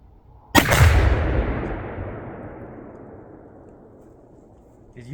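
A 30-06 rifle shot sets off 3.5 pounds of tannerite buried under milk jugs at an outdoor range, one huge sudden blast followed by a long rumbling decay that fades over several seconds.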